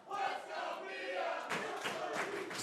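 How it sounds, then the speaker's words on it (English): A wrestling crowd at a Beyond Wrestling intergender match roars and cheers for Mia Yim, a dense, sustained swell of voices that surges again midway through. "And now this crowd getting behind Mia Yim."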